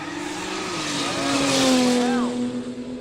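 Toyota Supra and a Valiant in an Aussie street race, engines howling with rising and falling pitch sweeps and possible tyre squeal, loud and close throughout with crowd noise under it.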